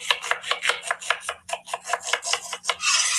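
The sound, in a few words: chopping onion finely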